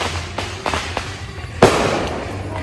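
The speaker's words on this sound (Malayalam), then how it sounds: "പടക്കൊക്കെ" Fireworks bursting on the eve of the Pattambi Nercha festival: a few scattered pops, then one sharp, loud bang and a long crackling, rumbling tail in a noisy outdoor crowd.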